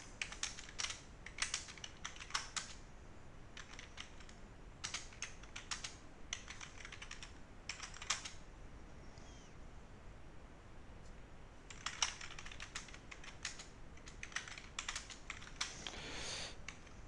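Bursts of typing on a computer keyboard during a web programming session, quick clusters of soft key clicks separated by short pauses, faint and close with no voices.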